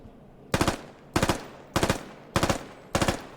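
M4 rifle fired in the military shooter game Squad, five short bursts of three or four rapid shots each, evenly spaced with brief gaps, loud and close with no talking.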